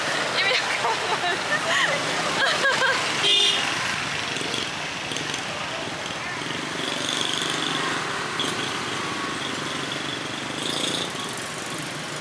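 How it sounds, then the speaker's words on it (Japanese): A motorbike engine drones steadily at close range in Hue, Vietnam, its rough hum holding throughout with a brief rise partway, over outdoor background noise. "なんかバイクここ通ってんだけど意味わかんない"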